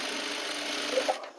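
A sewing machine stitches blouse fabric in one brief, steady, close whir that stops abruptly near the end.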